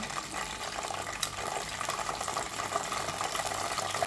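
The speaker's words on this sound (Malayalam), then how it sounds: "കുറച്ച് ഉപ്പൊന്ന് കലക്കി കൊടുത്തിട്ടുണ്ട് കുറച്ച് അങ്ങോട്ട് ഒഴിച്ചു കൊടുക്കുക" Salted water splashed into hot oil where banana chips are frying sets off a dense, steady hiss and crackle of sputtering bubbles, close and fairly quiet.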